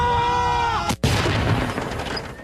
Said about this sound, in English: That tank round landed just by the trees on the horizon there.